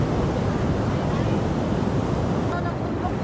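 Sea waves wash continuously at Baler beach in Aurora, a dense, steady roar of surf mixed with buffeting wind noise.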